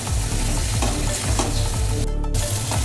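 Potatoes are stir-fried in a pan for a white aloo dum, giving a loud, continuous sizzle with scraping stirs, steady and close with a brief break near the end.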